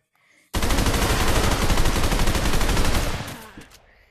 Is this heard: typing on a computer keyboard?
no